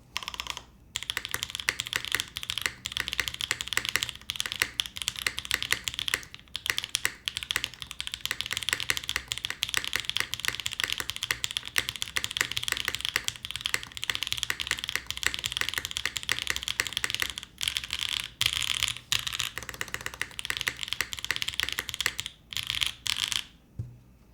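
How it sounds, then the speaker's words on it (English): Someone types on a polycarbonate-cased Bauer mechanical keyboard, producing a quick, continuous stream of crisp key clacks with short pauses, close and clear with no talking. "I'll be pleasantly happy to type on this Bauer for you"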